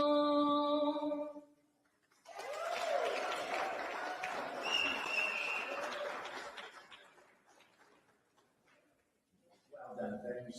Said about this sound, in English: Another big round of applause for Valerie.